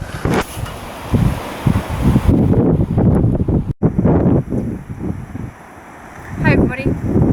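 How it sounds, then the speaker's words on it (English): Heavy wind buffets the microphone in loud, rumbling gusts, with voices talking underneath the low roaring blasts. "it's really windy, so the audio is not going to be great"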